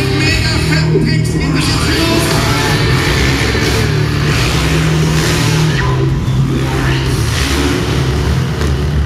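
Freestyle motocross motorcycles at the Masters of Dirt event in Vienna revving their engines, a loud sustained roar of several engines rising and falling together, with crowd noise and voices mixed in.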